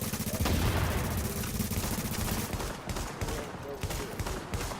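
Shotgun blasts ring out in a video game shootout, loud and close in a dense, rapid series of booming shots.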